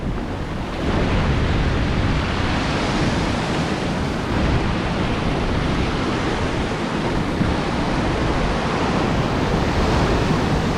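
Big ocean waves crashing and splashing on rocks at a fishing spot in Australia, a loud, continuous roar of surf with surging swells and heavy wind buffeting the microphone.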